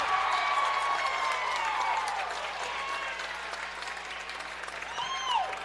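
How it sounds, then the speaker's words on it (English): A crowd roars and applauds at an Iowa high school basketball game as the home side mounts a comeback, a dense, steady wash of cheering with occasional whistles and shouts, heard without a commentator over it. "Can you hear the crowd? Unbelievable comeback by the Indians."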